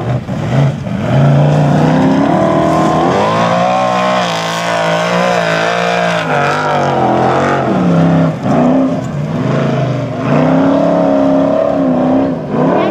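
A 700-horsepower Formula Offroad car tears through a rally stage, engine loud and close with repeated revving, gear changes and surges in pitch throughout.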